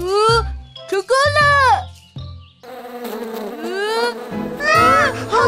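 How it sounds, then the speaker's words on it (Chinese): A swarm of cartoon bees buzzes and whines in a children's animated car show. High, swooping buzzes overlap with excited cartoon voices and rise loudly in waves throughout. "好多蜜蜂！"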